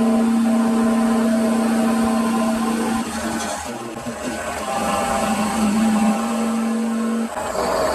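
A metal lathe turns down a steel part from 38 to 33 millimetres, a steady motor whine and cutting hum running continuously with slight shifts in tone, fairly close and without talk.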